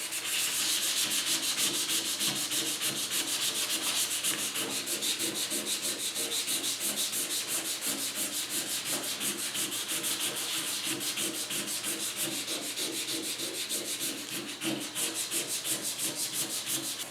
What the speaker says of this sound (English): I'm just hitting this with 320.